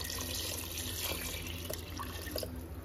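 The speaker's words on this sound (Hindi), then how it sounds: "3 गिलास पानी है, तो ये मैं इसमें डाल दूंगी।" Water is poured into a cooking pot for mutton nihari, a quiet, steady splashing flow with no talk over it.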